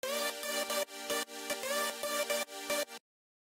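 A basic electronic synth lead built from saw and square waves plays a bright, buzzy, rhythmic phrase of short repeated notes with pumping gaps, ending abruptly into silence.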